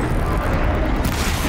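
A loud, deep, rumbling explosion in Horizon Zero Dawn, filling the short moment with heavy, sustained booming noise.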